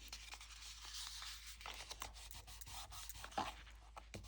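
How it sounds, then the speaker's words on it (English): Paper is burnished by hand on a mini album, a faint, close scratchy rubbing made of repeated short strokes at a quiet level. "Give it a good burnish."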